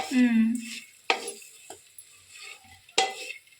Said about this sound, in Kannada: ಇದು ಒಗ್ಗರಣೆ ಆಗೈತೆ, ಸೊಪ್ಪು ಹಾಕ್ತಿದ್ದೀನಿ